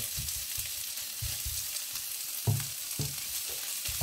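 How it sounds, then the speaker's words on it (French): Small shrimp sauté in a frying pan with tofu, a close, steady sizzle broken by rhythmic scraping stirs and a sharper clatter midway, no voices. "Et maintenant, je vais rajouter mes petites crevettes."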